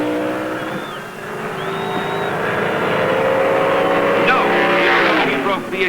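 Modified Plymouth Hemi Cuda drag race car launching down the strip, a loud sustained engine roar rising in pitch as it accelerates, with a commentator talking over it.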